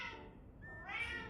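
A pet cat at home gives one drawn-out, wavering meow that rises again toward the end. The sound is fairly faint and close, with no talking.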